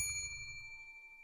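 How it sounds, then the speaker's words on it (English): A single bright bell ding rings out clearly with a sustained metallic tone that slowly fades, alone without any talk. "Ring the bell."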